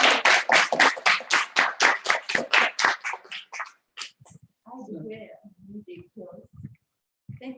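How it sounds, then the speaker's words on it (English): A small group at a reconciliation conference in Tokyo claps in quick, close bursts for a few seconds, then the clapping stops and a voice speaks. "Let's give a big applause."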